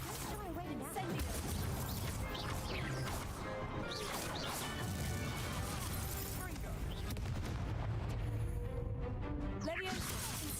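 Fire and blasting spells cast in Hogwarts Legacy, a dense stream of crashing, whooshing impacts and explosions layered over a game soundtrack while a player calls out spell names.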